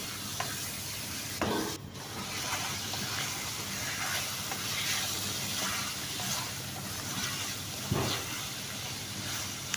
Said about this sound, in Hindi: छः से 7 मिनट तक इसको दरमियानी आग पे इसको भुनाई करेंगे।